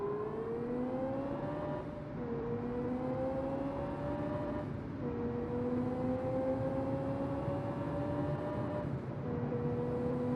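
A flat-plane V8 engine in a racing video game, held at high revs with a rising whine and brief dips at each of three gear shifts, loud and continuous with no talk.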